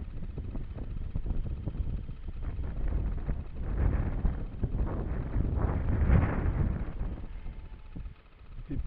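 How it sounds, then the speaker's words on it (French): Wind buffeting a microphone outdoors during a model glider's first test flight, a rough low rumble that swells and gusts for several seconds, close and fairly loud, with faint scattered knocks. "On peut dire qu'il y a un sacré bon petit vent quand même"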